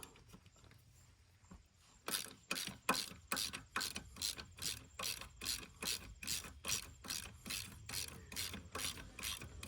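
Ratchet wrench clicking steadily as it backs out the 14 mm front motor mount bolt on a TW200 motorcycle frame, a quiet start followed by a long run of loud, evenly spaced ratcheting strokes close by.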